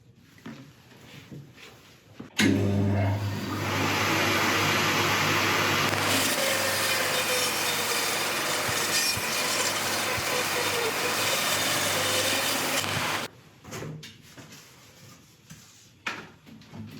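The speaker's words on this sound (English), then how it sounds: "then we'll get it onto the bandsaw and cut it free" A bandsaw cuts an ancient oak bowl blank free: a loud, steady motor whine with a cutting hum that holds for about ten seconds and then stops abruptly, with light handling knocks before and after.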